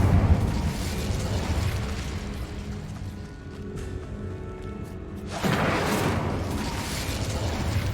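A burst of the Incendio fire spell in the Hogwarts Legacy video game erupts at about five and a half seconds as a loud, broad whoosh of flame. Rumbling magical ambience runs before it, and the fiery roar sustains to the end.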